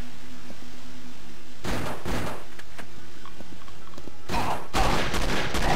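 Loud gunfire from the Doom 2 mod Possest, with repeated sharp shotgun-style blasts and bursts against a low steady game hum, some of them in close succession.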